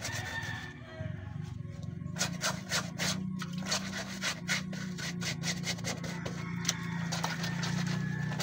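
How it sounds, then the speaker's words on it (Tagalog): Laundry is scrubbed by hand in a steady run of rough, rhythmic rubbing strokes, about two per second, close and moderately loud, over a low background hum. A rooster crows faintly in the distance. "Wala tayong magagawa kundi kuskusin. Kuskusin ng kuskusin."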